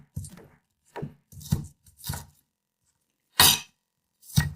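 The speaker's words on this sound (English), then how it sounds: "And here I have about 2 centimeters of ginger. Let's cut it into strips." A knife chops about 2 cm of ginger into thin strips on a cutting board: six short, sharp chopping bursts in an uneven rhythm with quiet gaps between, close and fairly loud, no talking.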